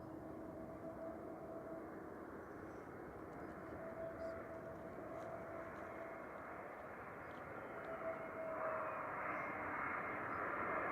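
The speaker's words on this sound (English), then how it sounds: "that's SAS 4607 from Oslo, just rolling out, SEROA, A320 Neo" An SAS Airbus A320neo jet rolls out at Manchester Airport, its engines giving a steady, distant roar and whine that swells slightly toward the end, with no talking.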